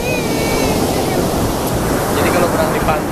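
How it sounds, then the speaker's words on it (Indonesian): Big ocean waves break at the beach at Pelabuhan Ratu, a steady loud roar of surf and spray that washes on without pause, with a faint voice briefly at the start. "Ombaknya gede juga nih soalnya ini."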